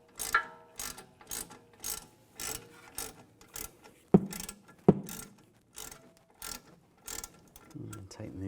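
A hand ratchet clicks in repeated rapid bursts, close and clear, tightening the caliper pins on a 2004–2010 BMW X3 front brake, with two sharp metallic knocks midway and a brief voice near the end.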